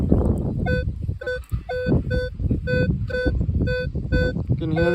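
A metal detector sweeping a field sounds repeated short, high two-tone beeps signalling buried iron, about one every half second, over steady wind and handling noise.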